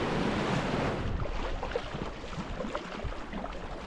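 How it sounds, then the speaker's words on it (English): Rampart Rapids on the Mackenzie River in the Northwest Territories, a broad rushing roar of churning water with wind buffeting, loud and continuous, easing slightly toward the end. "Our final rapid on the Mackenzie are the Rampart Rapids."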